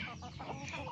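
A chicken clucks close by in a short burst of soft, throaty notes, with some murmuring in the background.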